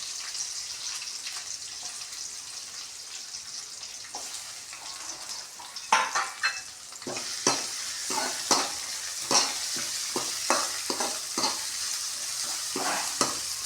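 Garlic, onion and green chillies sautéing in a pan, a soft steady sizzle that turns into busier frying, with a run of spatula scrapes and clicks against the pan in the second half.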